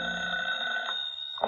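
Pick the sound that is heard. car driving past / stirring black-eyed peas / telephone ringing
telephone ringing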